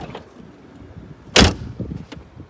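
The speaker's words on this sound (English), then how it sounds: "When you slam the door with no weather stripping on it." A Mercedes CLK 430 door with no weather stripping slams once, a sharp, loud, hollow metallic bang with a brief rattle, standing alone over quiet background noise.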